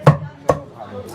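Black chicken meat is chopped on a board with two sharp, close cleaver strikes about half a second apart, followed by quieter handling noise.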